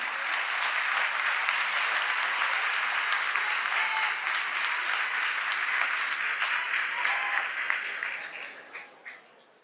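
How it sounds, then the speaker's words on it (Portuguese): Long, dense round of applause from an audience at a ceremony creating a social participation council, honouring Adriana Dias, steady and full for most of its length before thinning into scattered final claps. "Pedimos neste momento uma salva de palmas em homenagem a Adriana Dias"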